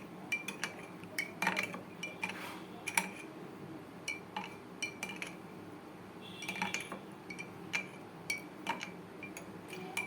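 A metal spoon stirs half a spoonful of palm sugar into a thick homemade health drink, ringing clinks against the glass or cup arriving in irregular bursts, close and fairly quiet, with no talking.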